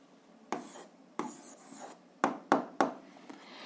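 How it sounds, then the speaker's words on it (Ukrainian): A hand writing an answer on paper for a 7th-grade physics exercise, a series of close pen strokes and scratches, irregular at first, then three quick, louder strokes near the end, with no voice. "записуємо відповідь, пишемо відповідь"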